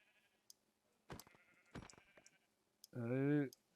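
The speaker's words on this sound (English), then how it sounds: "That's a lot of sheep." Sheep bleat in the video game Minecraft: a single loud, wavering bleat near the end follows someone talking in short bursts, with faint clicks scattered across the quiet background.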